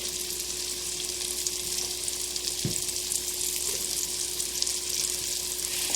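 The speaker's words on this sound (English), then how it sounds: "while the garlic is cooking" Garlic sizzling in a pan while making mustard and collard greens, a continuous bright hiss with a single soft knock partway through and no talking.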